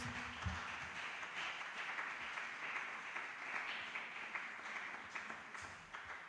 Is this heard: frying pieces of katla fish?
no